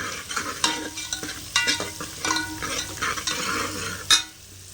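Food sizzles in a hot pan while a utensil stirs and scrapes against the metal in quick, irregular strokes, close up.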